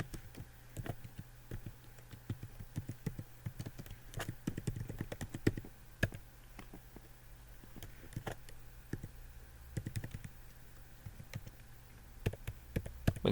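Someone types address details into a computer keyboard, producing faint, irregular clusters of light key clicks and taps over a quiet background hum, with no talking.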